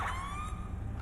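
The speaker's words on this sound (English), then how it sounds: "Got English Met sirens." A British Metropolitan Police siren wails from an unmarked car in GTA V on FiveM, loud and steady with a bright, sustained tone for a brief moment.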